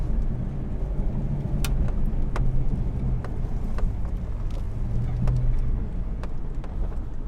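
A V8 Toyota 4Runner drives off-road in four-wheel high, its engine a steady, close low rumble with continuous drone and occasional light knocks and rattles over rough ground.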